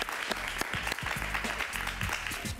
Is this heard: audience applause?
yes